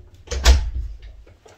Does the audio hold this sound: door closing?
yes